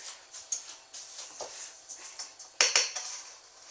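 Butter and sugar being creamed in a bowl for a sweet potato pie, giving a run of soft scraping and clinking strokes against the bowl at a steady rhythm, with one sharper, louder knock near the end.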